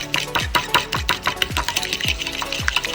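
Ingredients are mixed vigorously in a bowl, giving close, rhythmic stirring and scraping strokes about three or four times a second that repeat steadily with no talking.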